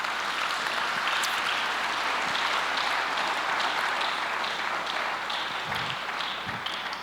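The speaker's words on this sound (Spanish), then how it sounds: "Dale un aplauso a Dios en esta hora." Steady, sustained clapping from a church congregation fills a sermon hall, dense and even throughout with faint shouts rising through it.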